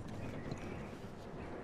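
Horses in the open world of Red Dead Redemption 2 make a soft, steady clip-clop of hooves under broad outdoor ambience, faint and somewhat distant.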